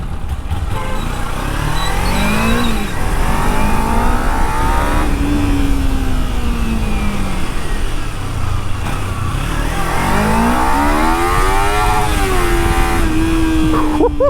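Kawasaki Ninja 300 twin-cylinder 300cc motorcycle engine revving hard, rising and falling in pitch through several sweeps up to high RPM, loud and close with no talking.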